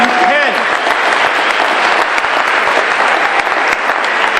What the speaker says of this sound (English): You need to give yourself a very loud round of applause